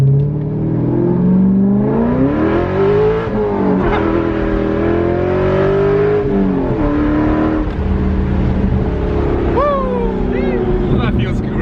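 A wide-body Corvette Z06 with wide rear tires revs and accelerates hard, its loud engine note rising and falling through gear changes, heard close from inside the car with tires losing traction.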